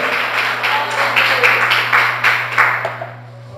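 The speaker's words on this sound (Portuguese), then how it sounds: "dá um aplauso ao Senhor Jesus" A church congregation applauds together in a dense burst of clapping that swells and then fades, heard over a low steady hum in a large room.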